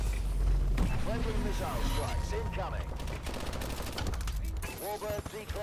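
Rapid bursts of gunfire in Call of Duty: Advanced Warfare crackle throughout, layered over game music and sound effects, with voices talking in Dutch in the background.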